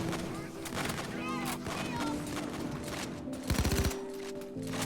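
Gunfire in the Payday 2 video game, bursts of automatic shots and heavy reports mixed with game noise throughout, with a person talking over it.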